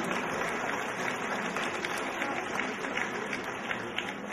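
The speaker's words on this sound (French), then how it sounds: "je vous demande d'applaudir" A pageant audience at the Miss Orléanais 2014 election claps steadily, a soft, even wash of applause heard at some distance through a hall.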